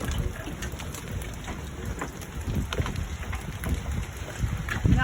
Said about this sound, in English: Hail, little ice.